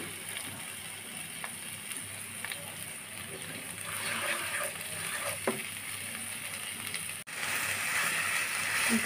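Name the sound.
frying mung dal in a pan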